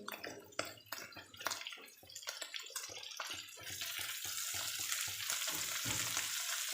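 Chopped onion hits a pan for a bottle gourd and prawn curry: first a run of scattered clatters and spoon knocks, then a steady, quiet sizzle building and holding to the end.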